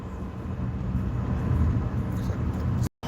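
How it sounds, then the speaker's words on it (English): A low-powered car engine drones steadily with a low, labored rumble while straining uphill in a winter storm, rising slightly in loudness before cutting off abruptly at the end. "It's hard to accelerate up this hill."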